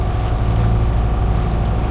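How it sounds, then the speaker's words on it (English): A sailboat's engine runs under light wind, a steady low, even drone that stays constant and close by, with no voices heard. "so we just got the engine running."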